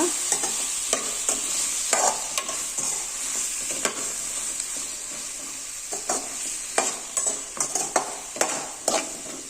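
Tomatoes with a little salt stirred in a hot pan, a steady sizzle of frying running throughout, broken by repeated scraping strokes of a spoon against the pan at an uneven rhythm, close and fairly loud, with no voices.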